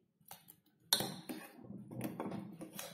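A ladle stirs cooked sago in a metal pot, giving soft scraping and clinking knocks at an uneven pace, close and fairly quiet.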